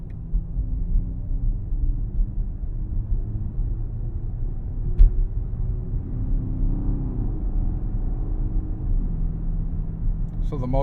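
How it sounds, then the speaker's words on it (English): A BMW XM hybrid's engine starts up while the car drives slowly on a warm day, a low rumbling drone rising steadily under cabin noise, with a brief thump midway. "So the motor just kicked on."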